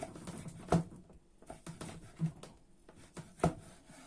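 A knife cuts a fried chicken fillet into cubes on a board, with irregular soft taps and a few sharper knocks against a quiet kitchen background.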